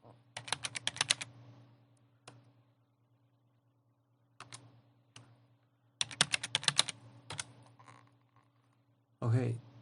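A computer keyboard is typed in two short, quiet bursts of quick keystrokes with a few isolated taps between them, while setting up Samba on Ubuntu 20.04. A brief sound closes the clip.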